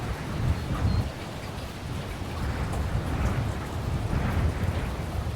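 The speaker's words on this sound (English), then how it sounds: "it started to rain, lightly at first and then more heavily." Steady rain falling with low thunder rolling underneath, a dense continuous hiss and rumble that stays even throughout with no voices.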